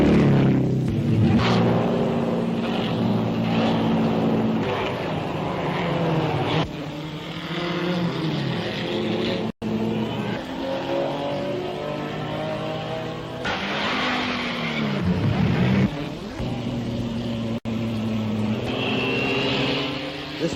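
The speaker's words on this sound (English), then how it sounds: "Holidays, as usual, brought a big program of racing to Brooklands" Racing cars of various sizes roar around the Brooklands track, their engines rising and falling in pitch as they pass close, a continuous loud mechanical drone with shifting whines over a crowd-like background.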